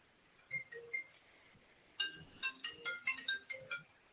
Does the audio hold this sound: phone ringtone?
yes